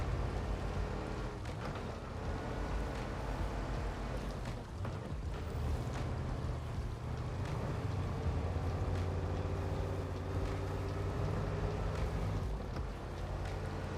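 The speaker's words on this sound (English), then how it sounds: "This damn engine sound is so good." A boat engine in a video game runs with a deep, steady drone and a faint high-pitched whine, loud and continuous throughout with no talking.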